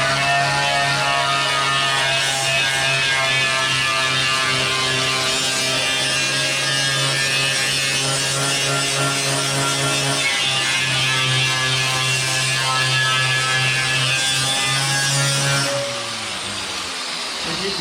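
Angle grinder with its guard removed, fitted with a stripping disc and working on a Lambretta GP scooter side panel: a loud, continuous high-pitched whine with strong harmonic drone that holds steady, then tails off near the end.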